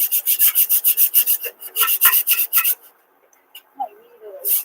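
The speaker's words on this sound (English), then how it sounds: "I just give it a quick sanding on this part." Quick rhythmic rasping strokes of sandpaper on wood, close and loud, then a short pause before a few more strokes.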